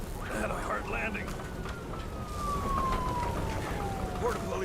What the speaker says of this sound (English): Border police car crashed near me.